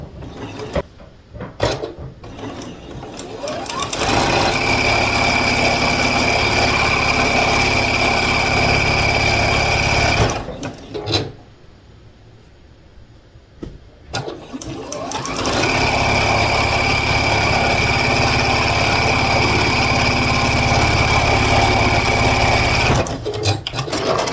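A sewing machine stitches sashing onto a modern scrappy quilt in two long, steady runs, loud and close, with a short pause between them and a few clicks and handling noises at the start.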